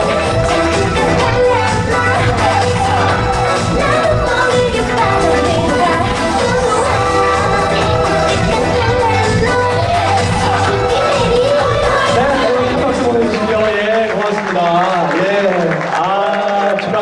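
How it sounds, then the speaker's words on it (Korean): Awards ceremony audience in a hall applauding and cheering for an athlete receiving a top honor, dense loud clapping mixed with shouts and whoops, sustained under music throughout. "여러분 큰 박수 보내주시기 바랍니다"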